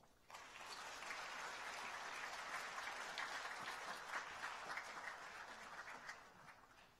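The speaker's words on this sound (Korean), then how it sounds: "우리 박수로 한번." A church youth retreat congregation applauds steadily for about seven seconds, a dense, even patter of many hands heard from a moderate distance.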